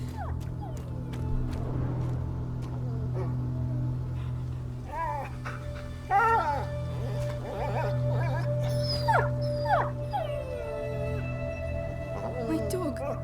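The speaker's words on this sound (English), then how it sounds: "My dog." A dog whimpers and yips in short, rising bursts over a steady low ambient drone in the video game A Plague Tale, with a voice speaking in between.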